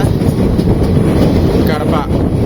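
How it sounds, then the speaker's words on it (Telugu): Rumbling train noise heard from aboard the Kacheguda Express in India, a steady broadband roar with wind buffeting that stays loud and constant throughout, and no clear voices. "ఏదో ట్రైన్ వస్తుంది"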